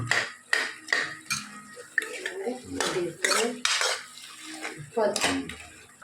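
Metal spoon scraping and clanking against a cooking pot while mutton gravy is stirred, a steady run of close, sharp knocks and scrapes with no talk.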